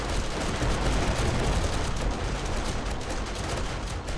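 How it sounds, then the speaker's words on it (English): SMG turrets in 7 Days to Die fire nonstop at a horde of zombies, a loud dense rattle of rapid gunfire with no pauses. "I'm just going to see how the SMG turrets cope"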